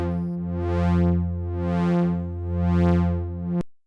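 A sustained synth drone made of two detuned oscillators, its brightness slowly sweeping up and down in smooth waves; no sharp resonant peak.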